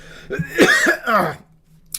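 A close, raspy cough in two rough bursts, followed by a short quiet gap and a faint click.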